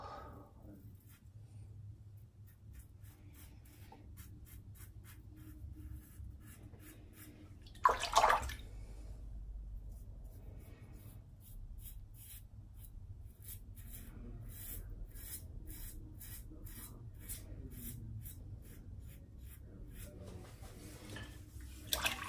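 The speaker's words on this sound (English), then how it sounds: "It's rinsing off in the water, not as good as it does with warm water" An ATT R1 razor is rinsed in cold water during a head shave, with a long run of soft sloshing and trickling, one louder splash partway through, and then steady swishing.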